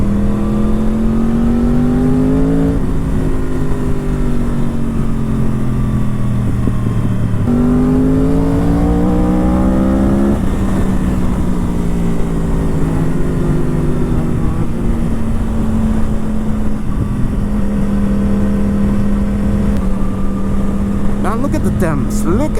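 A Yamaha R1 motorcycle revs and downshifts on a mountain road ride to Murree, its engine pitch climbing and dropping in loud, close bursts between gear changes, with a rider talking over it.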